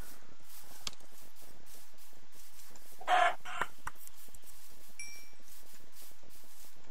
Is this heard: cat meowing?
no